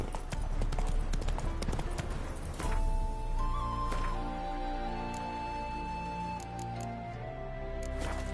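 Roach, the horse in The Witcher 3, gallops in the video game as quick rhythmic hoofbeats thud steadily through the whole stretch, close and prominent, over a low droning game soundtrack.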